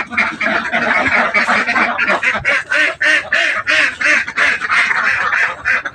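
Many ducks in a duck house quack loudly and close together, a dense overlapping chorus of rapid, rhythmic quacks with no pauses.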